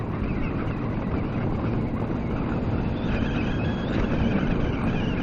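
A 2017 Kawasaki Ninja 650 is ridden in fifth gear just under 4,000 rpm at about 45 mph. A steady engine drone is buried in heavy, close wind rush that holds constant throughout.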